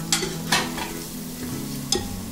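Curry leaves with green and dried red chillies sizzle steadily in hot oil, with several sharp stirring clatters against the pan over the constant crackle; no one speaks.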